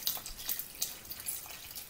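Water pours steadily into a pot holding potato, apple and onion, a bright continuous splashing hiss with small bubbling fluctuations, close and alone.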